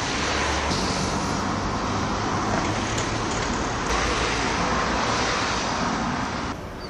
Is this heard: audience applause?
no